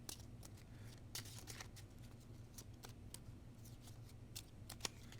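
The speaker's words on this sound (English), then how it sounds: "I'll just shuffle these, draw something." Playing cards shuffled by hand for the Space Wrecked board game, a run of quiet riffling and snapping bursts scattered across the clip over a low steady room hum, with no voices.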